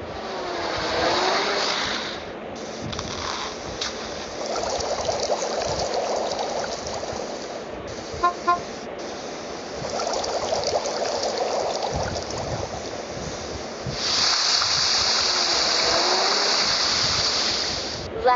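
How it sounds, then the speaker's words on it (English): Water gushes into a fountain in a video game as a steady, moderately loud rushing hiss that swells and fades, with a few small clicks along the way and no talk. "Let's fill it with water and turn the fountain on."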